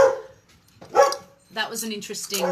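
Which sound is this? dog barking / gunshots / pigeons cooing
dog barking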